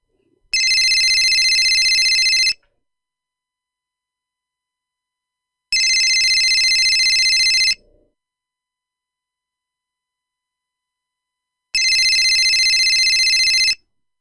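An old telephone rings in three loud, steady electronic bursts, each about two seconds long, separated by long silent pauses, and the call goes unanswered.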